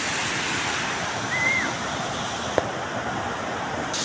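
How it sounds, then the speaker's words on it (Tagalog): Aliwagwag Falls in Cateel, Davao Oriental, roars as a loud, steady wash of rushing water that fills the whole scene from close range. "Hindi ako masyado makapagsalita kasi napakaingay ng tubig."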